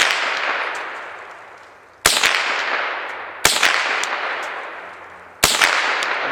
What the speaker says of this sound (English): I'm going to shoot the boards off the log